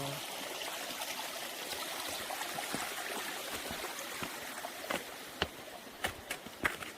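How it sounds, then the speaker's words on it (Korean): A thin stream of water running out in winter, a steady soft trickling rush close by, with a few sharper splashy drips and clicks toward the end. "물이 물줄 나오고 있네요"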